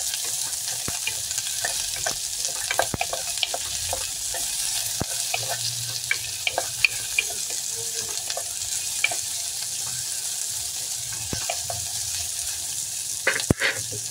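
Vegetables frying in a pan with constant close sizzle, broken by irregular clacks and scrapes of a utensil stirring them, steady and without voices.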